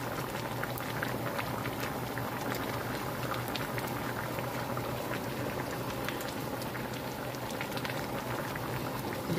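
Thick hamburger steak gravy with meat and vegetables bubbles steadily in a pan on medium heat, a close, continuous soft popping and blipping simmer with no talking.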